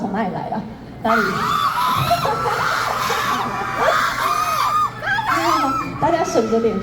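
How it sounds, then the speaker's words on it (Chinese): A high school audience at a campus concert screams and cheers in loud, rising and falling bursts, a crowd close by with overlapping shrieks and laughter. "尖叫声到底从哪里来的？"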